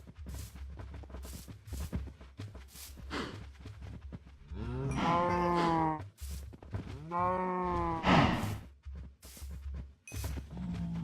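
Cows in Minecraft moo in two long, deep calls, one after another, amid quieter shuffling and game sounds nearby.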